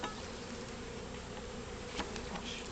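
Honeybees buzz steadily in an opened beehive during a hive check, a close, continuous dense hum with a few louder passes of individual bees.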